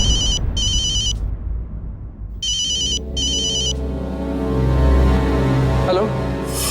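A telephone rings twice in bursts of electronic trilling, then a quieter voice and room noise follow after the ringing stops.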